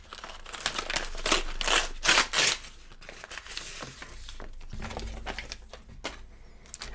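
Plastic mail package ripped open from the bottom, a run of crackly tearing and crinkling bursts up close, loudest early then settling into softer rustling and handling noise.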